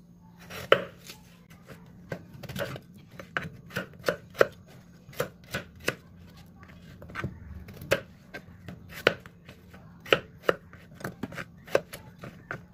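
A knife slices potatoes on a cutting board in a quick, steady run of crisp, close knocks and taps that keeps going with short pauses, no voices.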